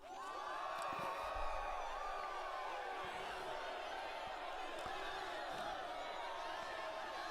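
A cheering crowd in the video game Metaphor: ReFantazio roars at a steady, dense level throughout, a continuous wash of shouts and whoops with a few sharp knocks mixed in.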